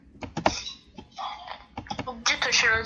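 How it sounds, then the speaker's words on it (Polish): A computer keyboard space bar clacks in sharp, close taps during a Roblox Jailbreak game, irregular and scattered across a few seconds alongside quieter background sounds. "słyszeć moje odgłosy klawiatury, ale to tylko spacja"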